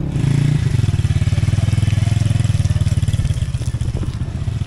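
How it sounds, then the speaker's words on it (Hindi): A motorcycle engine runs steadily on a mountain path, its loud, close, pulsing thump continuing throughout with a clattering mechanical edge and slight changes in pitch as it passes. "ये लोग तो यहाँ मोटरसाइकिल चलाने के माहिर हैं, हैरत अंगेज है।"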